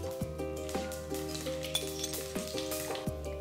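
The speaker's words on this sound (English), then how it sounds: "Once the oil is hot, add 1 teaspoon of mustard seeds. 1/4 teaspoon fenugreek seeds." Mustard and fenugreek seeds sizzle in hot gingerly oil, a steady frying hiss with a few light clinks and stirring sounds, close and moderately quiet, with no talking.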